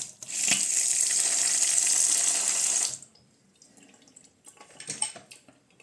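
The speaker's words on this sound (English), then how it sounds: "And the water now comes through this." Water jets steadily through a non-electric oral irrigator for about three seconds, a loud broadband hiss that cuts off abruptly, followed by quieter drips and small handling clatter.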